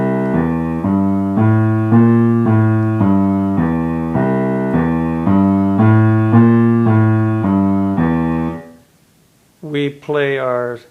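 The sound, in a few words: piano boogie-woogie left hand pattern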